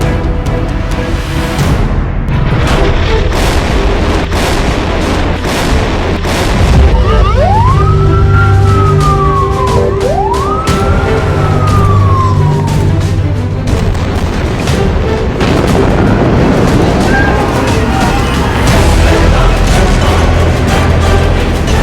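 Loud bomb blasts over the Gaza Strip, reportedly Israeli phosphorus bombs, with a constant rumble and heavy thuds, while two rising-and-falling siren wails sweep across the middle and a fainter siren follows later.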